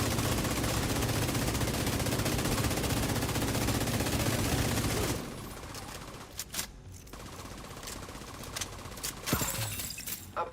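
A deployed automated turret in the video game Division 2 fires in a dense, loud burst of rapid gunfire, then the shooting thins out to scattered shots and sharp impacts.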